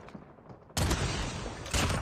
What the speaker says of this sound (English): I want to see what it does if you... if you shoot someone's feet.